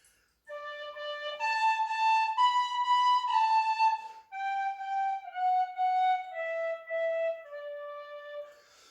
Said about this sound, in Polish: która na przykład na flaszolecie od dźwięku C będzie brzmiała tak